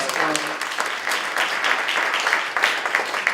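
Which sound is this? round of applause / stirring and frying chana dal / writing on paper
round of applause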